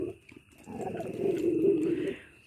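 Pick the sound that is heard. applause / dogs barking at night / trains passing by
dogs barking at night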